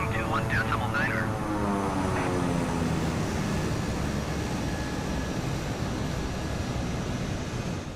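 A Beechcraft aircraft taxiing on the ground in Microsoft Flight Simulator gives off a steady, loud engine drone that holds evenly throughout, with a brief tonal whine near the start.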